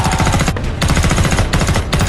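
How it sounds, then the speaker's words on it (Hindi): Rapid gunfire in a war movie about soldiers in a prehistoric jungle: loud, close bursts of rhythmic automatic fire separated by brief pauses, with no voices. "दूर मौजूद जेसन और उसके साथी भी गोलियों की आवाज सुन लेते हैं"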